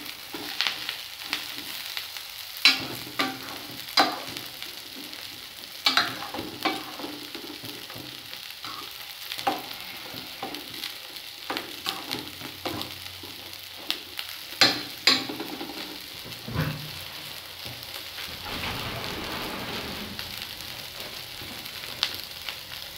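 Chopped onion sizzles and fries in a discada after garlic and chili, with a steady crackling hiss broken by repeated scraping stirs and clinks of a utensil against the metal disc, close and fairly loud.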